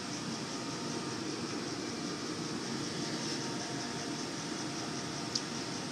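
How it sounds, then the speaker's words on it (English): A furnace blower runs during a no-heat service call, a steady, even broadband whoosh of moving air with no talk, holding constant at moderate level. "did you hear that blower?"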